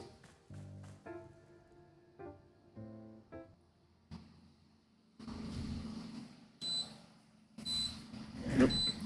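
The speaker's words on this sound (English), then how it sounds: "Oop, kettle's done." A kettle finishes and beeps a couple of times, short, high and faint, under soft game music and ambient sounds.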